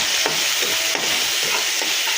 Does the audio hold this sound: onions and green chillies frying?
yes